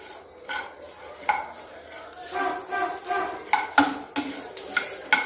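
White sesame seeds and watermelon seeds are dry-roasted in a pan. A spoon scrapes and clinks against the metal in repeated, uneven strokes over a faint sizzle, close by.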